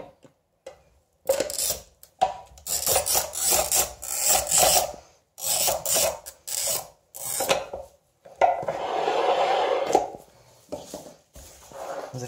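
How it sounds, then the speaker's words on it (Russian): Glass mosaic tile is worked with a tile cutter over a wooden board, giving a series of short, gritty scraping and rasping strokes in an uneven rhythm, close and fairly clear, with a longer rough stretch near the end. "Для начала разрежем плитку,"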